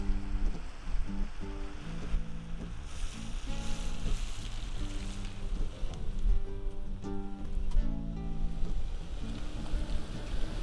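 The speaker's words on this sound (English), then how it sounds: "It's raining" Steady rain falling at a campsite in a Texas state park, a continuous patter and wash filling the background with no talking.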